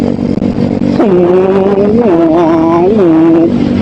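A loud big-bike motorcycle engine idles nearby, then revs in a few bursts, its pitch rising and dropping with each twist of the throttle.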